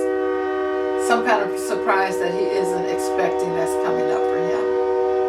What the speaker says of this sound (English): I hope you excuse the train that's coming through right now.